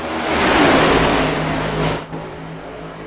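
Stock race cars in a single tight pack at an Atlanta Next Gen series race roar past, a loud, steady engine drone that swells and then fades off slightly as the field moves on.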